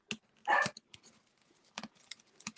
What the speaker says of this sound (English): Oh my goodness, my dog's barking.